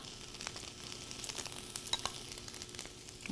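Tomatoes and peppers warm in a pan with a faint, soft sizzle and scattered light crackles and ticks, quiet and steady throughout.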